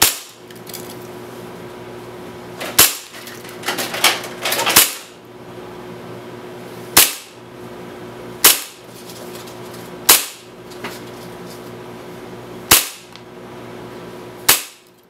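Tokyo Marui Hi-Capa 5.1 gas blowback airsoft pistol firing 0.2 gram BBs through a chronograph: sharp single cracks spaced a second or more apart, each followed by a brief metallic clack, close and loud over a low hum.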